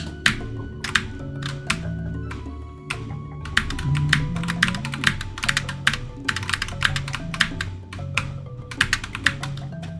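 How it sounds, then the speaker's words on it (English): Someone types on a computer keyboard in a chat box with bursts of rapid, close, crisp key clicks separated by short pauses, over faint background game sound. "it doesn't help that I'm typing in a chat box a lot of the time."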